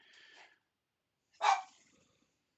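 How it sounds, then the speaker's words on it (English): A pet dog named Parker gives a short bark, then after a pause a sharper, louder single bark nearby, in an otherwise quiet indoor room. "So it's my dog Parker. He's just jealous because I don't let him play anymore"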